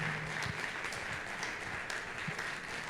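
A church congregation at a Sunday worship service breaks into sustained applause. Many hands clap fairly loudly, as a steady wash of sound lasting a few seconds.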